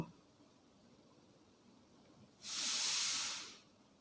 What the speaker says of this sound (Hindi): अब हमन पैन में 1 चम्मच तेल डाल के फल्ली दाना ला डाल देबो।